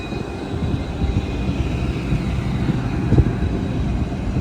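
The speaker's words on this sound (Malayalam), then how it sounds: "കർവാർ റെയിൽവേ സ്റ്റേഷനിൽ മറ്റൊരു വണ്ടിയുണ്ട്, കർവാർ KSR ബംഗളൂരു പഞ്ചഗംഗ എക്സ്പ്രസ്" The Karwar–KSR Bengaluru Panchaganga Express at Karwar station, a steady moderate rumble of train movement with soft irregular knocks and one slightly louder thump late on, no voices.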